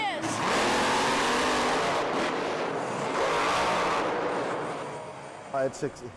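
A loud, roaring monster truck engine revs hard and rumbles nearby, its noise swelling and fading, with a voice briefly heard near the end.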